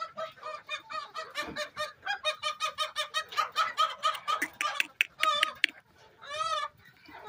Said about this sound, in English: Look at those chickens.